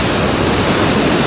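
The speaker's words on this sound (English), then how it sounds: "Okay, so we're at the beach in Hampton, actually." Ocean surf at a sunny beach in Hampton, a loud, continuous broadband wash of breaking waves with no voices.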